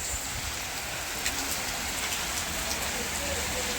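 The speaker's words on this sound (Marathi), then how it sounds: "पाऊस पडतो आहे" Steady rain pours down in a continuous hiss with scattered drops pattering on surfaces, loud and even throughout, with a hint of voices in the background.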